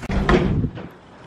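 A car door is opened close by, a short thump and rattle followed by a quieter clatter that fades out within about a second.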